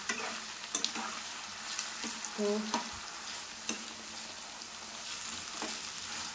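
Assorted fritters sizzle steadily in a frying pan for a quick spicy snack, with a continuous hiss broken by several sharp clinks and scrapes of stirring; a brief word is spoken at the start.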